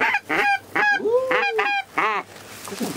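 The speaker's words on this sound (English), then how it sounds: "The lone goose." A lone wild goose honks repeatedly near a hunting spot in Centreville, Maryland, giving several loud, clear calls in an irregular series with short gaps, heard on its own without talk.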